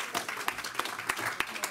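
A church congregation breaks into steady applause acclaiming the Lord, a dense wash of many hands clapping with sharper individual claps standing out, moderately loud and continuous throughout.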